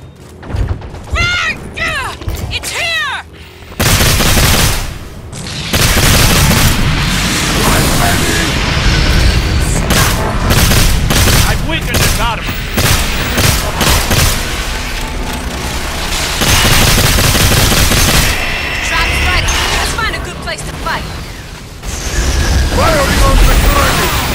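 Weapons fire at the Kraken in the Elite Dangerous video game: loud, dense volleys of booming shots and blasts repeat almost without pause, layered with mechanical game effects.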